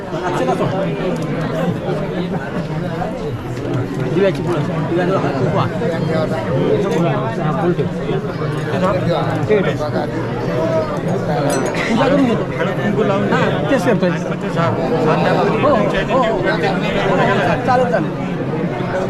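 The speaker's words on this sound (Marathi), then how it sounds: "गर्दी" Dense crowd chatter fills an engagement ceremony, many voices overlapping steadily throughout with occasional clinks of glass or dishes in the background.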